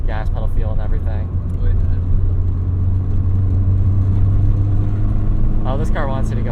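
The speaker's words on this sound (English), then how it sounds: "it has that very Japanese car sound" A 1990 Nissan Pulsar GTI-R turbo hatchback drones with a low steady engine note and road rumble from inside the cabin while driving, with people talking over it at the start and end.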